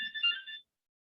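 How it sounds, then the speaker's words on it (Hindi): Phone ringtone for an incoming call during an online physics lecture: a short, faint electronic trill of a few warbling tones lasting about half a second, then silence. "फोन आ रहा है, जस्ट वेट करें।"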